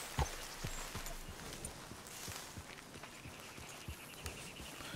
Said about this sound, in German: Wir reiten mit unserem Pferd hin.